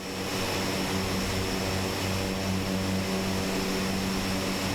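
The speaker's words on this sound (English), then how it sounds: "I'm just spooling up the engines a little bit." An ATR 42's propeller engines spool up in Microsoft Flight Simulator, a constant, loud turboprop drone with a steady tonal hum and no voices.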